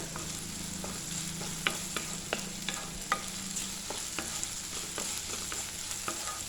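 Okra sizzles and crackles steadily in a hot pan, punctuated by regular scraping clicks of a spatula stirring, with no voices.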